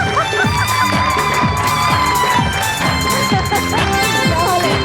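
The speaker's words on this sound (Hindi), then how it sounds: "आपकी बहुत सारी तालियों में" Studio audience applause and cheering fill a Pakistani TV entertainment show set, a loud, dense and steady wash of clapping and crowd noise with faint music underneath throughout.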